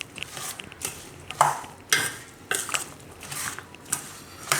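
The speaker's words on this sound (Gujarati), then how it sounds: "આ બધું મિક્સ કરી લેવું." A spoon stirs turmeric, cumin and red chilli into puffed rice in a metal bowl in a home kitchen, giving a series of close clinks and scrapes at an uneven rhythm.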